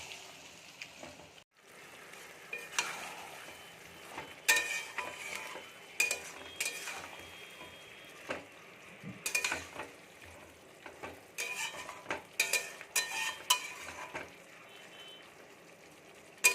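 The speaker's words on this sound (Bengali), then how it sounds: "ভালো করে এবারে আমি ম্যারিনেট করা আলুটাকে কষিয়ে নেব।" Marinated potatoes for aloo dum stir-fried in a pan: quiet sizzling broken by irregular bursts of spatula scraping and clinks against the pan, close up, with no talking.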